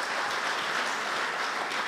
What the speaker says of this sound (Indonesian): Tadi beri tepuk tangan dulu buat Tuhan kita.